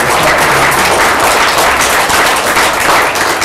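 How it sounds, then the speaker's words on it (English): An audience at a talk on climate change gives a dense, steady round of applause, many hands clapping loudly at once for a few seconds with no speech. "So let's give them a round of applause."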